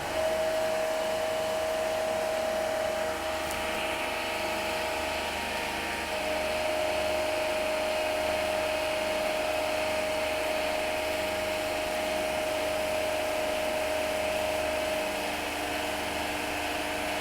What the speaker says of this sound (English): Now the motor is rotating with its rated RPM.